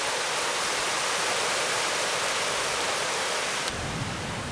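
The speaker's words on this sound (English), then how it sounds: "It's like three different river channels all filtering right into one." Three river channels in the Catskills wilderness merge into one, producing a loud, steady roar of rushing water close by that fills the whole stretch without a break, with no voices.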